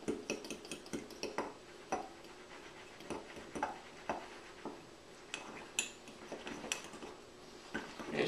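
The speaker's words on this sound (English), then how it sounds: "Grab a fork, and mix it all up." A fork stirs thick muffin batter for a one-minute mug muffin, giving quick irregular clinks and scrapes against the dish, fairly close and quiet, with no talk.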